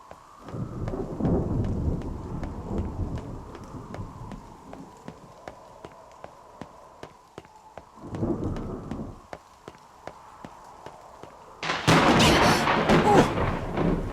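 Rumbling thunder with steady rain from the video game NieR Re[in]carnation, swelling in two low rolls and a louder crash near the end; no voices.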